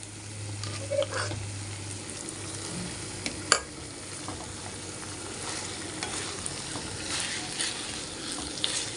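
Boiled carrot and potato are stir-fried in a pan for pav bhaji. A soft, steady sizzle runs throughout at close range, broken by occasional clinks and scrapes of a spoon against the pan.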